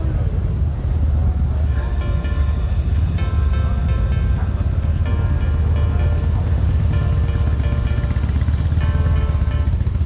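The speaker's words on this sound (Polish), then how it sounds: "Motocykle Boss Hossa z silnikiem Chevroleta 6-litrowym." A Boss Hoss motorcycle with a 6-litre Chevrolet V8 rumbles loudly and steadily at a biker event, a deep continuous engine drone with other noise mixed in.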